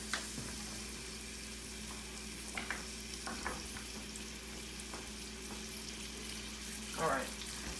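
Vegetables sizzling in a skillet with a steady, fairly quiet frying hiss, broken by a few soft clacks and stirring scrapes, one louder rustle near the end.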